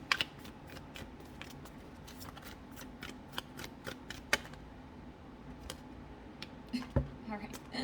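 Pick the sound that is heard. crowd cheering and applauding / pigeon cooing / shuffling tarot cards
shuffling tarot cards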